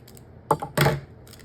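Scissors cut into a plastic blister pack holding trading cards, giving two or three crisp crinkling snips close by in a brief burst with silence around them.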